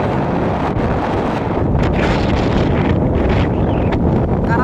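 Strong wind roars at a fishing harbour where boats stay moored, a loud, constant buffeting rush of wind noise across the microphone with no pause throughout.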